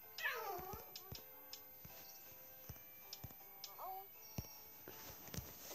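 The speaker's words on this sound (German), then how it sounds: "So, und das war gerade mein Kater," Indoors, a male cat gives a few short meows, quiet and somewhat distant, with scattered faint clicks and taps around them and no one speaking.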